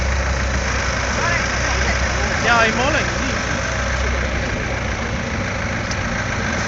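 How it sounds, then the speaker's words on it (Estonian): A car engine idles roughly, close and loud, wavering as if about to stall, with people talking over it. "sul pidi auto välja surema peaaegu"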